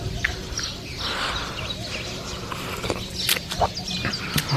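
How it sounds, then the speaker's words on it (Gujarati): Sparrows chirp in the early morning outdoors, quick bright calls scattered in bursts near and farther off over a low background hum. "મસ્ત મજાનો ચકલીનો ચી ચી અવાજ"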